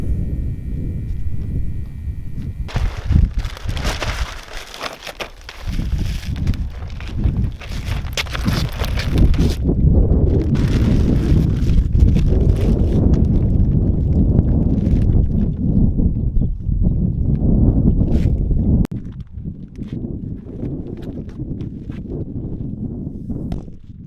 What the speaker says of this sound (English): Wind is my greatest enemy up here today as I roll out this plastic.